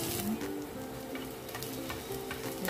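Chopped onion fries in a frying pan, making a steady close sizzle with light crackles and occasional ticks of stirring throughout, with no voices.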